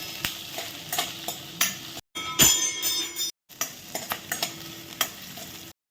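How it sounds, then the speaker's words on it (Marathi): Onion and capsicum sauté in a pan, a soft sizzle punctuated by repeated spatula scrapes and clinks against the metal, with brief silent gaps between bursts of stirring. "इथे घेतली शिमला मिरची टाकून छान परतून घ्यायचं"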